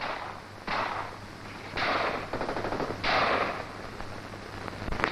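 Gunfire rattles through a tank and infantry assault in bursts of rapid machine-gun fire, several separate volleys a second or so apart, sharp and fairly close over a rumbling background.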